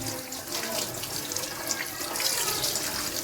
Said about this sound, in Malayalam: അപ്പോൾ നമുക്കിത് ആദ്യം കഴുകിയെടുക്കാം. നന്നായിട്ട് കഴുകിയെടുക്കണം, കാരണം ഇത് ബ്ലഡൊക്കെ ഉണ്ട്.